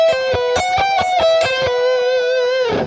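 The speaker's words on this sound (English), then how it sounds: "It's 4 notes on one string, 2 notes on the next string." Electric guitar plays a six-note lick in C Lydian, four notes on one string and two on the next, with downward pick slanting; clean distinct plucked notes in quick succession, the last one ringing out and decaying alone.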